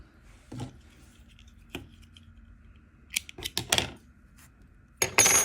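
Scissors snipping crochet yarn while a spring flower is made, a few sharp separate clicks and snips with a louder cluster of cuts near the end, close and without talk.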